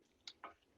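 Undercooked long grain rice is chewed, still crunchy, giving two quick, faint crunching bites close to the mouth in an otherwise quiet room.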